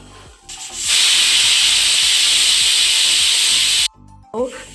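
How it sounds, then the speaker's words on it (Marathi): A kitchen pressure cooker cooking a thin eggplant and potato curry lets out a loud, sustained steam whistle lasting about three seconds before cutting off abruptly, with softer clatter around it. "तेन्ना आतां शिटयो तेचो आवाज येता शिटयांचो"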